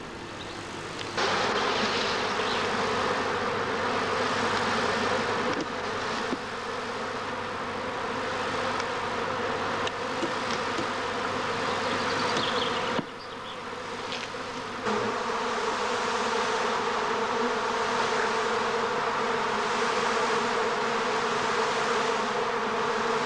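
A dense swarm of honey bees hanging on a low branch buzzes steadily and loudly, a continuous droning hum with slight shifts in intensity throughout.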